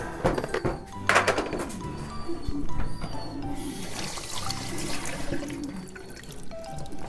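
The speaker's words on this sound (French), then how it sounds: "Eau tiède que je mélange avec une petite cuillère." A small spoon stirs lukewarm water in a container, giving close, light clinks and soft sloshing and trickling that come and go in an uneven rhythm over faint background noise, with no voice.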